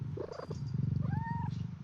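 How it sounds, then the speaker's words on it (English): A cat in the video game CrossCode purrs in a steady, close rhythmic rumble and gives a short rising mew partway through, heard alone without talk. "It purrs and mews."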